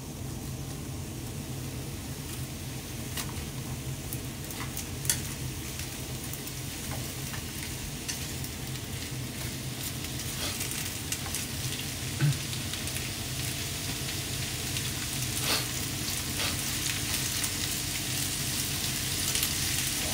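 Onions frying alone in a pan with no meat, a steady broadband sizzle running the whole time, with occasional scrapes and clinks as they are stirred; close and fairly loud, no talking.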